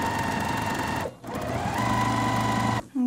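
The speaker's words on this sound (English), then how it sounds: "we're gonna sew from corner to corner, going from the outside into the inside." A sewing machine stitches a quilted pillow from corner to corner in a steady close-up whir, briefly pausing once about a third of the way in, then running again before a short stop at the end.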